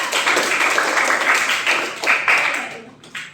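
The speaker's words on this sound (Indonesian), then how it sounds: "Oke, supaya tepuk tangan dulu untuk mereka." A classroom of students applauds the quiz winners with a dense, steady burst of clapping that fades out near the end, with faint voices underneath.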